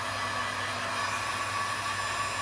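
A heat gun blowing hot air over a freshly turned wooden bowl, a steady, even rushing hiss that stays constant and close throughout with no speech.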